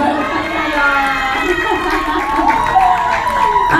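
A crowd at a film premiere cheers and shouts over scattered clapping, children's and adults' voices rising in an excited, continuous din for nearly four seconds.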